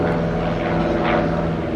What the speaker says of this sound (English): But we have an aeroplane instead.